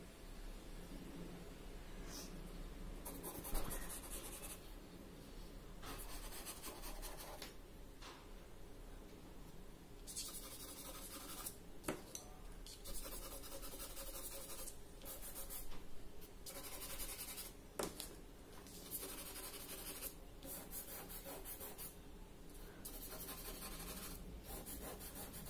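Pastel pencil scratching across paper as shadows are marked in a pastel portrait, a steady close rasp of rubbing strokes broken by short pauses and occasional louder taps.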